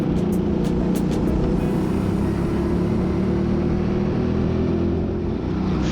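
Go-karts with new tyres roar around the indoor track at TeamSport Birmingham, a loud continuous engine drone close by that holds steady with little change in pitch.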